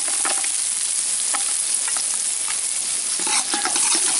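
Chopped garlic and small onions sauté in a pan, a loud, continuous sizzle with crackling spatters and occasional stirring, heard up close with no voices.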